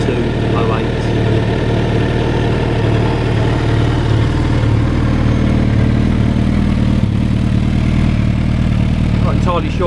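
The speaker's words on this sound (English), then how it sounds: "Not entirely sure how well represented these exhausts will be on the video soundtrack, but I'm sure you can hear that they give a nice boom." A Peugeot 106 fitted with boomy aftermarket exhausts idles nearby, a loud, steady low rumble with a deep resonant drone that holds evenly throughout without revving.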